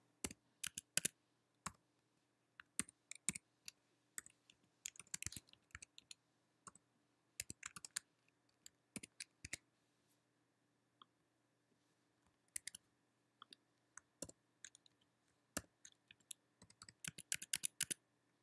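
Math formulas being typed on a computer keyboard in GNU TeXmacs at full speed: quick bursts of sharp, close key clicks in uneven runs, with short gaps between flurries and nothing else heard.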